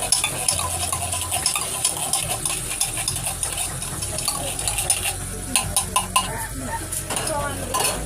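A utensil stirs and scrapes corned beef in a pan sauteed with garlic and onion, close and repetitive with metallic clinks over a faint sizzle, the scraping going on throughout.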